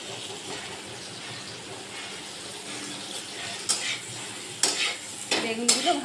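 Eggplant and bitter gourd pieces sprinkled with salt fry in mustard oil in a pan, a low steady sizzle joined later by several loud scraping strokes of a spatula stirring against the metal.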